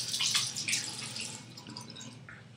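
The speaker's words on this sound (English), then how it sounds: "I'm going to wet the palms of my hands." Tap water runs and splashes over the palms of the hands, a steady close hiss of flowing water with brief louder splashes near the start that eases off to a softer trickle.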